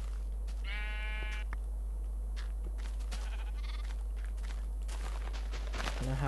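A sheep bleats in Minecraft, one clear wavering bleat near the start, followed by soft footstep clicks and scattered game noises over a steady low background hum.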